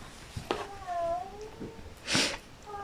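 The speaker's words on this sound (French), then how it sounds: "Donc, il braillait, le chat." A cat meowing and yowling outdoors, several drawn-out, wavering cries with short gaps between them, close and fairly loud over quiet background noise.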